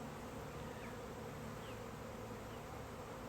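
Dense, constant buzzing of a honeybee swarm droning close by with no pauses.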